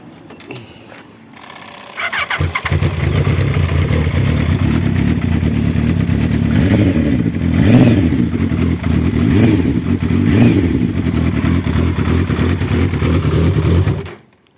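A turbocharged Suzuki Hayabusa motorcycle engine with an extended track-day exhaust cranks and fires up, then idles loudly with a rough clattering rumble, revving up a few times before cutting off abruptly.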